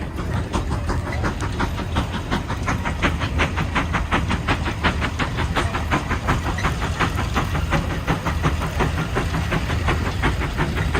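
CASE 150 steam road locomotive pulling a 44-bottom John Deere plow, with rapid rhythmic exhaust chuffs over a steady hiss and engine rumble, close and continuous.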